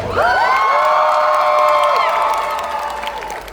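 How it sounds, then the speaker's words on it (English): A large convention crowd at Comic Con Cape Town shouts, screams and whoops loudly together, with shrill sustained cheering and some clapping that swells and then gradually fades. "I want you to shout, scream, and applaud."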